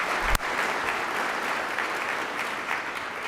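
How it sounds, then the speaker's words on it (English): Sustained applause from a NASCAR championship crowd for a race team, steady dense clapping throughout with a sharp thump near the start. "They deserve a round of applause."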